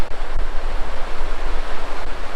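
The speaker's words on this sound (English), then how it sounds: "But this is, too, the Little Pigeon River." The Little Pigeon River in the Smoky Mountains rushes past a bridge near a picnic area, a loud, steady broadband roar of flowing water with some wind buffeting and no voices.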